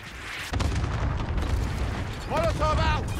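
Cluster strike explosions in Call of Duty: Modern Warfare, a constant rumbling barrage of deep booms under radio-style voices, one loud chirping signal tone near the end.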